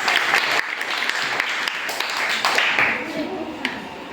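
Applause from schoolchildren at a quiz event in a primary school, a dense crowd of clapping hands sustained steadily for several seconds, close and fairly loud, with voices mixed in.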